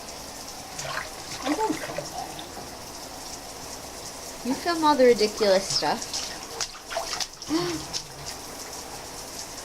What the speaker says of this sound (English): Water's flying everywhere.